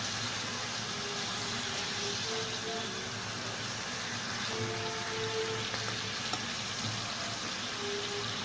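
Rohu fish pieces, including the head, sizzling in cooked-down spice paste in a pan for a potato and pointed gourd curry, a steady, rain-like frying crackle that stays even throughout with faint clinks.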